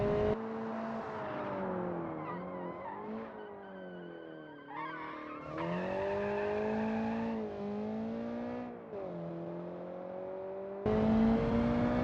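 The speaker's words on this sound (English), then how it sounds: "Bit of a power slide out there." A car power-slides in the Automation game, its engine droning loudly and steadily, with long wavering tire squeals rising and falling. No talking is heard.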